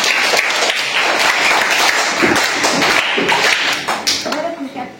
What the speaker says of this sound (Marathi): खुशीसाठी सगळ्यांनी टाळ्या वाजवायच्या